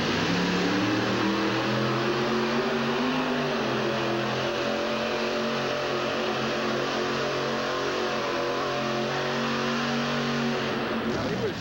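A supercharged 498-cubic-inch Hemi in a monster truck at a 1989 USHRA event in Hartford, a loud, steady engine roar with rising and falling harmonics, revving under race commentary.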